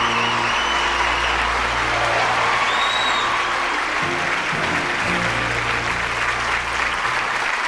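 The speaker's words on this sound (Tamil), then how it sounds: "ஒரு மிகப்பெரிய கைத்தட்டலோட இந்த மேடையில் வெல்கம் பண்ணுறோம்" Loud, sustained audience applause fills a stage event as a guest is welcomed, a dense steady clapping with crowd noise and faint voices underneath throughout.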